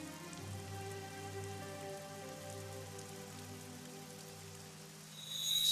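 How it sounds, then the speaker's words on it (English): Rainfall in the video game AI: The Somnium Files, a constant hiss of drops striking a surface over a quiet, sustained musical drone, swelling slightly louder at the very end. "It's raining."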